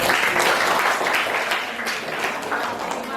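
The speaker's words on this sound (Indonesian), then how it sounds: "kita kasih tepuk tangan dong" A class audience applauds after a presentation, giving a short burst of dense, fairly loud clapping from many hands that runs unbroken for the whole few seconds.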